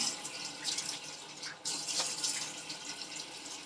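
Bathroom tap water runs steadily into a sink while it is warmed for washing the face, a close, continuous hiss and splash with slight fluctuations throughout.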